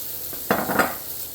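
Tofu frying in oil with garlic, ginger and chilies, a crackling sizzle that swells suddenly as the pan is stirred, with a second scrape-and-sizzle burst shortly after, close and fairly loud.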